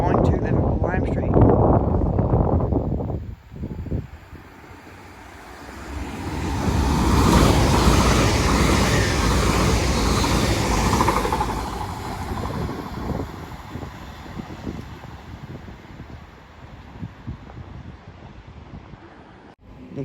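A Class 800 passenger train bound for Liverpool Lime Street rushes past at St Helens Junction, a loud broad roar swelling and then fading under heavy wind buffeting, with someone talking over it.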